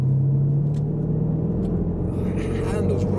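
A Range Rover SVR accelerates at half throttle with a deep, rumbling engine note heard from inside the cabin, steady and close, while a person talks over it.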